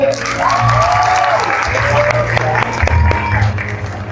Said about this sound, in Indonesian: Boleh tepuk tangan lagi, teman-teman.